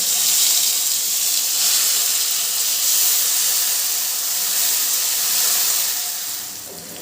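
Green banana peel paste frying in hot oil gives a steady, loud hiss and sizzle that holds throughout, easing slightly near the end.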